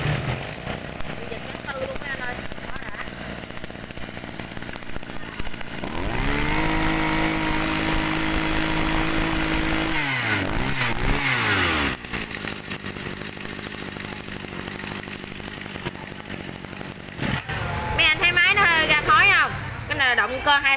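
A two-stroke petrol Japanese grass cutter engine runs loud and close, a steady buzzing drone that shifts pitch as the throttle changes, then cuts back while someone talks over it near the end.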